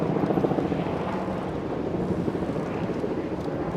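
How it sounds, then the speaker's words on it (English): Helicopters flying over Lower Manhattan in New York City, a steady low rumbling drone that stays fairly loud and continuous throughout, with wind buffeting the microphone and no talking. "Lots of helicopters today."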